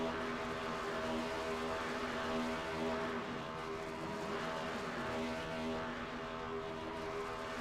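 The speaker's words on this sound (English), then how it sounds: "We'll take a look at Andrew St. Coeur try to fry the last of his tires off here." Race car doing a burnout to fry its tires at a Doghouse Racing League event at Auto Club, a continuous droning engine roar heard from a distance, steady and unbroken.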